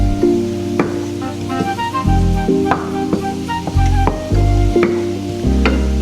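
Shrimp, garlic and broccolini get stirred in a hot pan, with steady sizzling and repeated scrapes and clinks of a utensil against the pan, loud and close.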